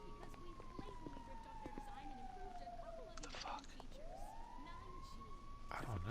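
Wailing sirens in a video game rise and fall over a noisy background, fairly faint, with a quiet voice speaking briefly.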